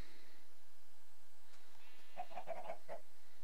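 A Minecraft chicken clucks in a quick burst of several short calls near the end, fairly quiet against a faint background hum.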